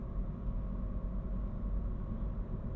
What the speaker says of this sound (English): You can kind of hear a lot of the tire noise on this asphalt here.